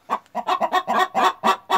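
Laying hens in a henhouse cackle in a quick run of about eight loud, close clucks, the excited chorus they make around laying an egg.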